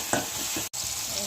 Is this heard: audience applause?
no